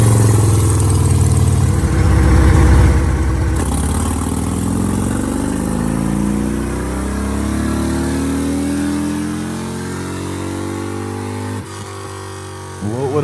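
A motorcycle engine on a dyno at a bike rally revs up hard and then winds down in a long, loud, close pull, fading toward idle near the end.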